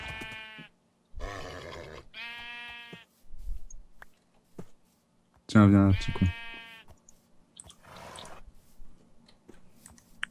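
A sheep in a video game gives several bleats, one loud and drawn out, between quieter game sounds, with someone talking in between.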